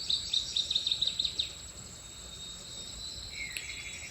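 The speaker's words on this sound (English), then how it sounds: "Noticing the birds" Birds sing in a forest: a quick run of high, bright chirps in the first moments, then quieter scattered calls over faint ambient hiss.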